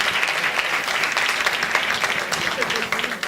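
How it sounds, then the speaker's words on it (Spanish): Steady applause from a conference audience fills the hall, dense and continuous clapping at moderate volume with a faint crowd murmur beneath. "Un aplauso para él."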